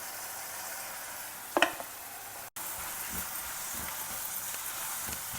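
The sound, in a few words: vegetables frying with homemade sambar masala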